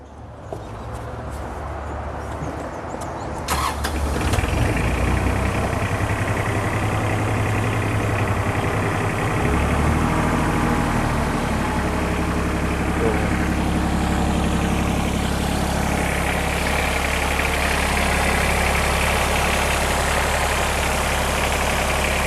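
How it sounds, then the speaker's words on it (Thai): A 2009 Iseki AT5390 tractor's heavy diesel engine cranks and starts after a few seconds of low rumbling, then settles into a loud, steady idle close by. "เดี๋ยวผมจะไป สตาร์ทเครื่องยนต์ให้ฟังกันนะครับ"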